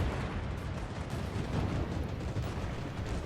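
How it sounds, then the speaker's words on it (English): Anti-aircraft fire in World of Warships, a dense, continuous rumble of distant flak and cannon bursts blending into a low roar, steady and fairly faint without clear separate shots. "The anti-aircraft fire is really quite intense here"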